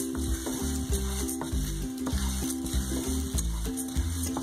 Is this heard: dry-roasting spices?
yes